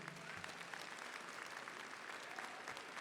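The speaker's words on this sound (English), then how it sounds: "Let's give another round of applause for those talented students." Applause at a Five Towns College graduation ceremony, a dense, even wash of clapping from a large audience heard from a distance, continuing without a break.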